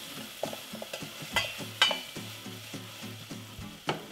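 Onions sautéing in a pan for homemade BBQ sauce, a quiet low sizzle broken by repeated spatula knocks and scrapes in an uneven rhythm, no voices.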